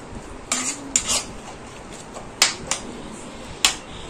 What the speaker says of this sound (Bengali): কচুগুলো একটু মেখে নেব